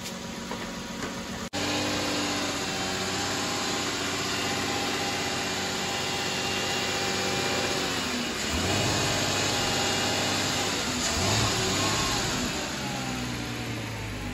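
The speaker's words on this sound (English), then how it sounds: "What I'm doing now is just raising up the RPMs just to double check everything, let it pressurize up" A car engine idles then rises in RPM while the cooling system is bled, a steady close hum that climbs and swells toward the end, with no talk.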